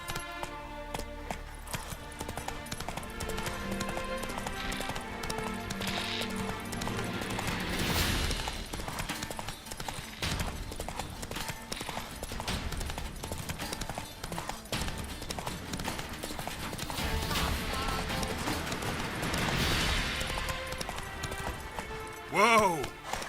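Roach, the horse in The Witcher 3, gallops with steady clip-clopping hooves beneath continuous game music and ambience, building for a long stretch, with a brief neigh-like sound near the end.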